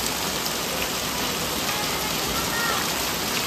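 Steady heavy rain falling on a village, a dense continuous hiss of drops on surfaces with no pauses, close and fairly loud throughout.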